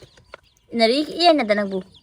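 A hen on a small farm gives a single drawn-out, wavering cluck lasting about a second. It is close and fairly loud, with faint clicks and shuffling just before it.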